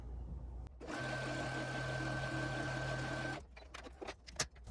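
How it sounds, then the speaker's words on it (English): A sewing machine stitches scrap quilt fabric pieces in one steady burst of about two and a half seconds, a close, even mechanical hum with a fine whine, followed by quiet handling noises of the fabric. "just sew away right down that line"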